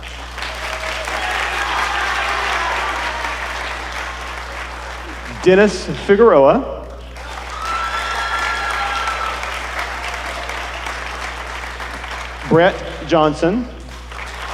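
Audience applause fills a school spring band concert hall for award-winning band students, steady and sustained, broken twice by a man announcing names over the clapping.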